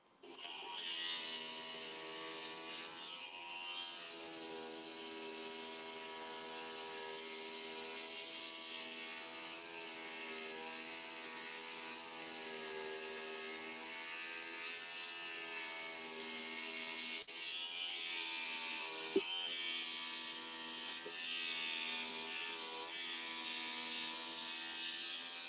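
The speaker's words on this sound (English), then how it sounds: "But it grinds it down. Yeah, grind wheel." A grinding wheel works down a piece of glass, a steady whirring drone with a strong harmonic hum, shifting slightly in pitch as pressure changes, continuous and fairly faint, without speech.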